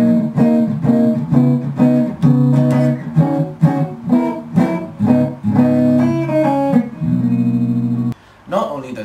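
A longer phrase on electric guitar plucked with bare fingers instead of a pick, with soft-edged note attacks and some sustained chords near the end, heard close and alone.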